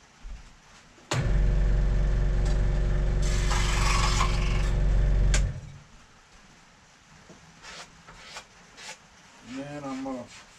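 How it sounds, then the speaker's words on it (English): Small oscillating bandsaw cutting wood for a model ship, a loud steady buzzing cut lasting several seconds that stops abruptly, followed by quieter handling sounds. "So now we'll just cut that over in the little oscillating bandsaw."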